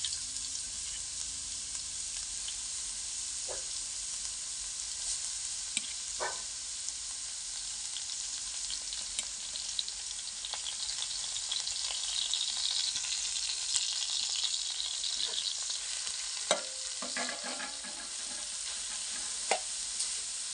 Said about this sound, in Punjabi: ਹੁਣ ਆਪਾਂ ਇਹਨੂੰ ਚੰਗੀ ਤਰ੍ਹਾਂ ਝੱਸ ਲਵਾਂਗੇ ਘਿਓ ਦੇ ਵਿੱਚ ਗਾਜਰਾਂ ਨੂੰ